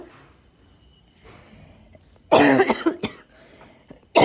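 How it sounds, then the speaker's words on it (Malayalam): A loud burst of coughing, a couple of harsh coughs in quick succession, then another starting at the very end, over a quiet room. "ഇവിടെ എനിക്കൊരു പ്രത്യേക ചുമയും വരും."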